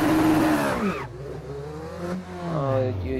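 A Formula Renault 3.5 race car's engine in Assetto Corsa rises in pitch and then settles into a steadier rev, close and fairly loud, with no talk over it.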